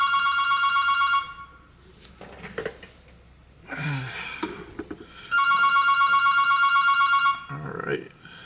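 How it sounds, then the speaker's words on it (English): A telephone bell rings in two long bursts with a gap between them, and people move and breathe nearby while they work on a paracord ladder bar. "Alright, so I gotta ignore that phone for a minute."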